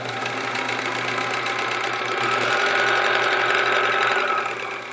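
Sewing machine stitching a quilt seam for a sampler quilt, its motor humming in a steady, continuous run with rapid needle chatter, loud and close throughout with no talking.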